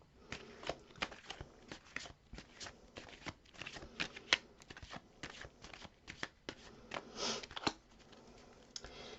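Tarot cards shuffled by hand in a quiet room, a steady run of crisp riffling and slapping bursts at close range with no talking throughout.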